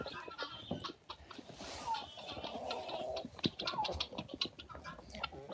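A flock of poultry clucks and chatters close by, with scattered short calls and rustling as the birds crowd around, and a person speaking softly among them.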